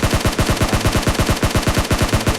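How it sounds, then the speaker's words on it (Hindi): Rapid automatic SCAR rifle fire in PUBG Mobile, about a dozen sharp, evenly spaced shots in a fast, loud burst. "पर मुझे और भी फायरिंग की आवाज़ आ रही थी"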